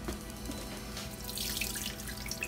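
Running tap water streams steadily into a sink while peeled pickled quail eggs are rinsed, a soft continuous splashing with small drips and bubbling, close and fairly quiet, no voices.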